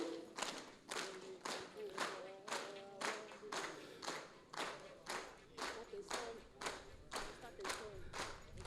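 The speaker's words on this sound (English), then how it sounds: "Put your hands together." Steady rhythmic clapping from a crowd welcoming President Museveni in Uganda, beats evenly spaced about twice per second, with voices chanting or singing over it.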